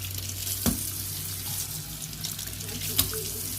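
Kitchen tap running steadily while raw pork chops are rinsed in a sink, a continuous close water hiss with a couple of brief clunks of handling.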